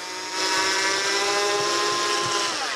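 A power drill whirs steadily at high speed, a continuous close motor whine with a slight pitch shift near the end.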